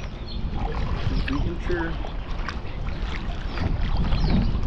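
A canoe is paddled across a windy lake, with soft water splashes and wind noise throughout and people talking briefly over it.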